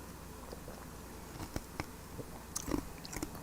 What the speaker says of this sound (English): I'm chewing on some ice.